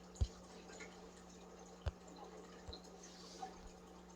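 Single water drops land one by one at uneven intervals, about four soft, close plinks over a quiet background with a steady low hum.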